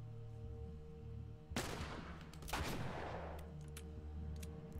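Bursts of gunfire in The Last of Us Remastered: two sharp, broadband volleys, each with a quick decaying tail, stand out over a quiet, humming background.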